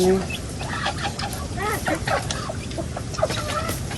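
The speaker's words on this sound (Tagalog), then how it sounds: "Kagulo na po yung mga manok ni Bossing." A flock of chickens cluck and squawk noisily as they scramble for feed, with a steady rustling din underneath and a voice speaking briefly.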